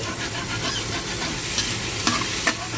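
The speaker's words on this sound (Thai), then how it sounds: "ผมจะใส่น้ำมันแล้วก็ใส่เต้าหู้ไปเลย" Tofu frying in oil in a pan for a vegetarian stir-fried pumpkin dish, a loud continuous sizzle with a few sharp spatula scrapes near the end.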